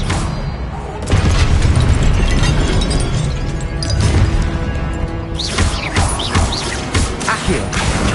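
Loud spell-combat effects from the Hogwarts Legacy wizarding game as an Expelliarmus disarming spell is cast: deep booming crashes and impact bursts, sustained and dense, with sharp whooshing hits swelling near the end.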